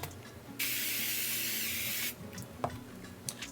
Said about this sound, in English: It took 3 very close sprays to get here